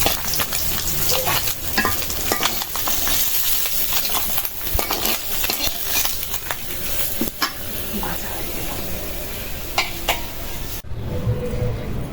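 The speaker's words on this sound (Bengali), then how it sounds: "কড়াইটা গরম হয়ে গেছে তেল দিয়ে দিলাম সরিষার তেল" Mustard oil in a hot kadai crackles with a constant close sizzle and the occasional clatter of stirring, then the sound cuts off sharply near the end.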